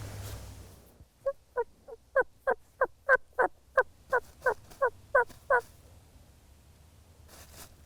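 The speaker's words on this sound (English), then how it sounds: "Let's see if we get some turkey footage first." A flock of wild turkeys gobbles outdoors, about a dozen sharp rhythmic calls in quick succession, clear and fairly near, then quiet.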